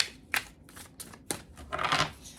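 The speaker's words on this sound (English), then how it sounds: "It's a bigger deck, a little bit harder to shuffle this one." A large tarot deck is shuffled by hand in a series of crisp riffling bursts and slaps, close up, with short pauses between them and a longer flurry at the end.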